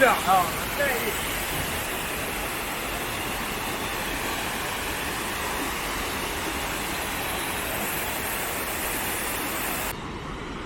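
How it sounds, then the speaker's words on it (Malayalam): Cheeyappara waterfall on the road to Munnar, swollen after a week of heavy rain, gives a dense, steady roar of rushing water that fills the whole stretch, loud and continuous. "വെള്ളമുണ്ട് ചീയപ്പാറ വാട്ടർ ഫാൾസിൽ"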